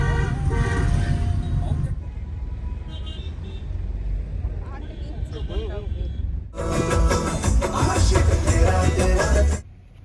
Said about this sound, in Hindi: अभी हम ट्रैफिक में फंसे हैं